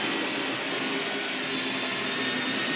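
A vacuum cleaner runs steadily and loudly throughout while cleaning an upper-level model railroad main line track, a continuous close whine and rush of air with no pauses and no talking.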